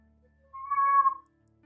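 A single drawn-out cat meow in an indoor room, clear and fairly close, with a quiet pause before and after.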